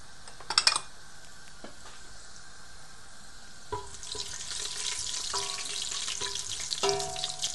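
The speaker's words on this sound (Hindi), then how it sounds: "ऑयल गर्म हो गया तो अब इसमें मैं ये ज़ीरा डाल दूंगी और साथ ही दालचीनी और इलायची डाल दूंगी।" Cumin seeds, cinnamon and cardamom dropped into hot oil for rajma curry, a close steady sizzle and crackle with a few sharp spattering pops and a spoon clinking in the pan.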